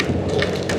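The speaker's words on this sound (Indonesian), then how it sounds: "Sudah mulai hujan gerimis, rintik-rintik sedikit teman-teman." Light drizzle begins falling outdoors during a motorcycle tour on a muddy road, a short, steady patter of raindrops on surfaces, fairly loud and close, with no talking.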